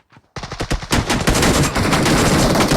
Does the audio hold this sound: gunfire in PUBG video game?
yes